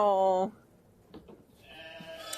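Sheep in a sheepfold at Bergerie Fraline: a loud, close bleat opens the moment, then quieter barn shuffling, and a second sustained bleat rises near the end.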